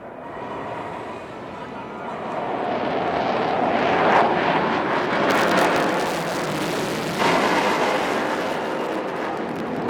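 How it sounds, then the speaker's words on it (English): An Indian Air Force jet flying a tail slide at an air show over Chennai's Marina beach sends a loud, distant engine roar that swells and surges over the crowd, while a commentator talks over it. "the pilot will now execute a remarkable maneuver called the tail slide"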